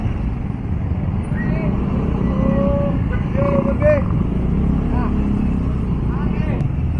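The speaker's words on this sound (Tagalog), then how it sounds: "sobrang traffic" Dense motorcycle and car traffic crawls along the Boulevard in Davao City, a steady loud rumble of engines throughout with voices talking over it.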